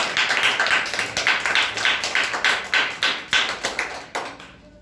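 An audience at a storytelling competition claps for a young storyteller, a dense burst of hand claps with a few sharper accented claps, fairly close and fading near the end.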